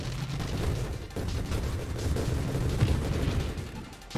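Grenade blasts and explosions from the space shooter game Nova Drift, a dense continuous barrage of booming bursts and crackling gunfire filling the whole stretch, loud and unbroken with no talk.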